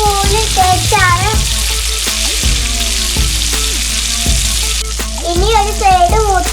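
Masala-coated fish fries in a pan with a loud, steady close-up hiss, while a melodic voice or music runs over it.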